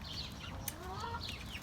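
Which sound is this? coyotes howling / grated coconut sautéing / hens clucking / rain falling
hens clucking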